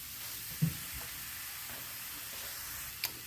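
Ground turkey sizzles faintly in a pan as it is broken up with a spatula, a steady low hiss with two sharp scraping knocks, one early and one near the end.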